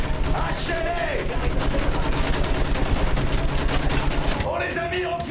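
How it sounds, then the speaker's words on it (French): Rapid machine gun fire rattles continuously through a World War I battlefield scene on the Somme, loud and close, with shouted voices breaking in over the bursts. "À la mitrailleuse! Hachez-les!"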